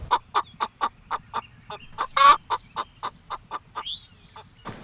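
Chickens on pasture, egg layers near a mobile coop, cluck in a quick run of short repeated calls, close and fairly quiet, with one louder squawk in the middle.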